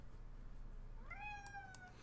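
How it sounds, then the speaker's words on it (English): A cat gives a single rising, tonal meow, close but fairly quiet, over a low steady background hum. "Don't meow at me"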